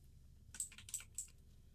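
Typing on a computer keyboard: three quick, quiet key clicks in a short burst, close and alone in a hushed room.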